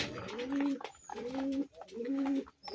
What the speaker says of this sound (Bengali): নর কবুতর, শুধু একটা মাদি কবুতর